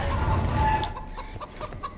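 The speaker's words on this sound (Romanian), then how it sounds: "Omoară, mă, găina aia," A chicken clucks in the video game Hunted: The Demon's Forge, giving a few short choppy clucks over a game soundscape.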